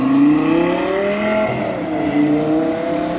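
A Lamborghini Gallardo Performante engine revs and roars past nearby at Goodwood, its pitch climbing, then dipping as it passes and accelerates away.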